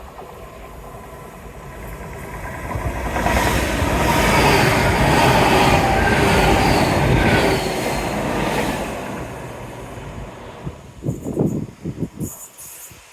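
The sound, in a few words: train passing along Teignmouth seawall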